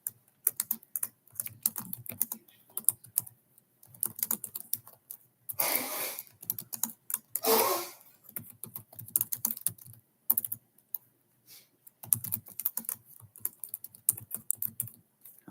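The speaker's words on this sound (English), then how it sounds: "Let me type something in." Keys clatter on a computer keyboard in irregular bursts of typing, fairly close and moderately loud, with a couple of louder broadband rustles in the middle and no talk over it.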